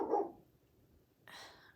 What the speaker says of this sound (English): don't know why the dogs are out there barking